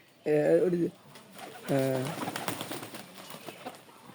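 Pet pigeons coo close by in two distinct, throaty phrases, with fainter rustling and bird sounds in between.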